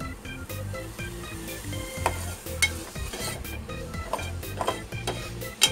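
Mung bean and tomato mixture frying in a pan on medium gas, a steady sizzle broken by repeated scraping stirs and a few sharp utensil clinks, close and continuous with no talking.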